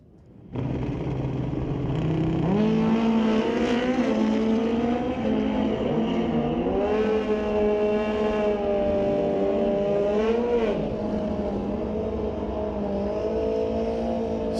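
Drag racing machines, including a Kawasaki, rumble and rev steadily at Mission Raceway Park during an NHRA Northwest National Open Series race, a loud continuous engine drone with rising pitch sweeps, heard alone.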